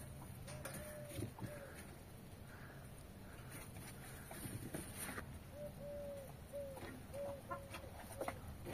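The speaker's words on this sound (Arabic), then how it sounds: "هذا ديك الابو ابو رقيبة" Rooster in a poultry enclosure of Arab chickens, giving a string of short clucks and calls amid steady farmyard background noise and other birds.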